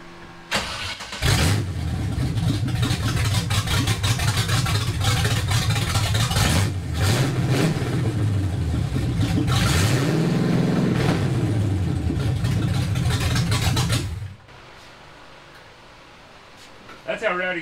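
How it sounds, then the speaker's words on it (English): A patina classic truck running open headers fires up and revs hard several times, its loud, raw exhaust roaring close by for about thirteen seconds before it shuts off abruptly; people talk around it. "you got to run open headers when you have the opportunity for just a second"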